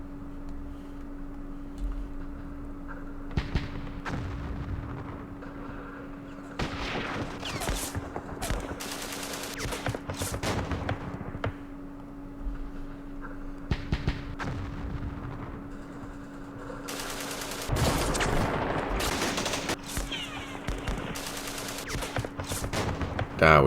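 Gunfire and artillery in a Vietnam war strategy game set at Dien Bien Phu: repeated sharp bursts and booming volleys come in irregular clusters over a steady hum, with a heavier barrage late on.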